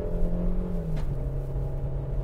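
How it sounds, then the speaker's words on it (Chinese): A car accelerating hard toward 100 km/h on a road during a braking-practice drive, its engine a steady close drone with a brief rising whir partway through. "我们现在加速到100哦，注意看加速"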